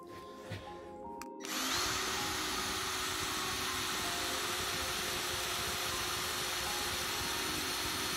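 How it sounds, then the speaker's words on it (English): After a brief lull, a Ryobi ONE+ cordless drill starts up and runs steadily at high speed, grinding continuously and loudly through steel until the end. "So let's drill through a piece of steel."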